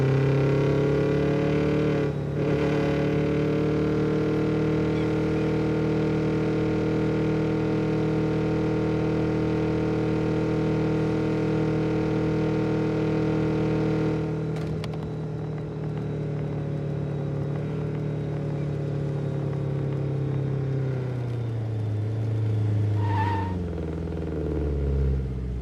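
A Subaru WRX engine in the video game Neverness to Everness holds a loud, steady revving drone, with a brief throttle blip midway. It winds down in pitch near the end, with no voices.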